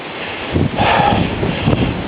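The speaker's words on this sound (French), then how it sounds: "Le vent a forci, donc la pluie a cessé." Gusts of wind buffet the microphone with low rumbling bursts, loud and uneven over a muffled outdoor background, during a countryside walk.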